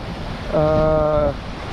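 Strong 20-22 knot wind at sea aboard a Mini-Transat sailboat running under spinnaker toward Les Sables d'Olonne: a steady broadband rush of wind and water, with a brief tonal whine rising out of it mid-clip.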